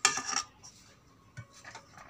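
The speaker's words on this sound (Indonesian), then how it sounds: "Sekarang kita mengulek satu kali dengan tomatnya ini" A pestle grinds boiled tomatoes in a mortar for sambal bajak, starting with a short, loud, close scraping burst. Faint, scattered taps and scrapes follow.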